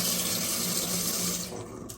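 Water rushes steadily into a bidet fitted to a Kohler toilet, a close, even hiss that tapers slightly near the end; no talking.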